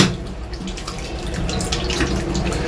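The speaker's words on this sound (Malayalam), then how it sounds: "അത്യാവശ്യം വെള്ളമൊക്കെ ഉണ്ട് നമുക്കൊന്ന് കൈ കഴുകാം" Hands rinsed under a running water tap in a railway station bathroom in Kannur: a steady, close rush of water splashing into the sink, with no talk throughout.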